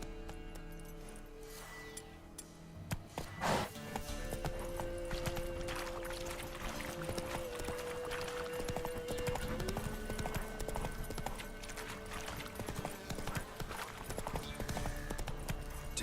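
Horse hooves clip-clop steadily through a running ride in The Witcher 3 video game, a continuous rhythmic patter under game music and ambience, with a brief whinny-like accent early on.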